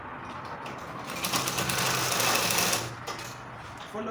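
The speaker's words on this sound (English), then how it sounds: "Then you top stitch this thread like this." A sewing machine top stitches part of a pair of trousers, a continuous buzzing whir that swells in the middle, with a voice speaking faintly underneath.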